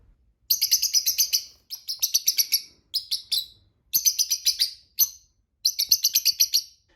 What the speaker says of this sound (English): we noticed that Fig liked to sing to the other birds